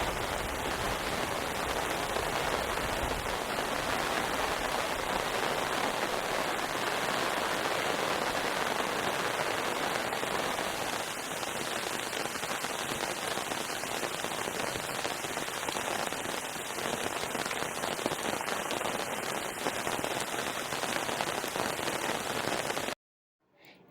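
Heavy rain pours down steadily during a storm in Ahmedabad, a dense, loud, continuous hiss of water drumming on surfaces for about twenty-three seconds before cutting off abruptly near the end.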